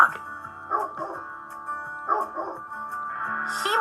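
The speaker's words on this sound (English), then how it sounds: "Hey, look at that dog!" A dog barking and yipping in short bursts, close and fairly loud, with a few whimpering sounds between the barks.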